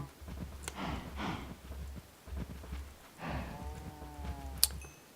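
Cattle in a video game give several drawn-out, low moos with harmonic tone, mixed with clopping and snorting, against steady game background noise.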